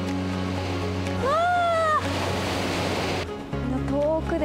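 Surf washes steadily against the rocky shore at Chigogafuchi on Enoshima, a continuous rushing roar with a brief high whine sweeping through partway.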